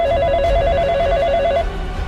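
A telephone rings in a warbling electronic trill lasting about a second and a half, clear and close over a low background hum.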